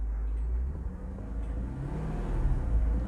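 The 4.3-litre V8 of a Toyota Soarer convertible rumbles with a soft, deep, bassy tone that swells slightly louder toward the end as it is revved.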